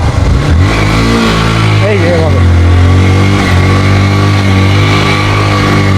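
A motorcycle engine revs hard at full RPM during a drift with the clutch being released, a loud sustained droning roar with rising pitch, while someone talks over it.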